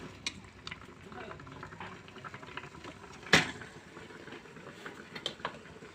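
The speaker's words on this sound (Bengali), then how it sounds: "এই তো এখন আমি ঢাকনাটা খুলে একটু নাড়া দিব, যখন সিদ্ধ হয়েছে কিনা এটা দেখবো।" A lid coming off a pot of boiling food and a quick stir, with soft bubbling, a sharp clank of metal partway through and a few lighter knocks, all fairly quiet.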